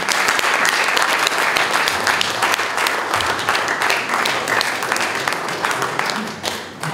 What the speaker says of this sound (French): je voudrais l'accueillir sous vos applaudissements, Madame Edwige Diaz.